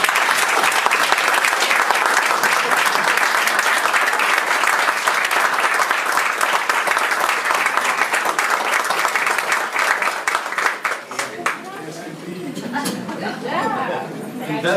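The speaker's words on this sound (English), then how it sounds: "I just think she deserves a warm round of applause" At a school board meeting, a room applauds warmly with loud, steady clapping for about ten seconds, then it fades into murmuring chatter and a voice speaking.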